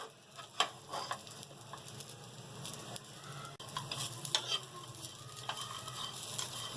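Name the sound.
roasting almonds and pistachios in a pan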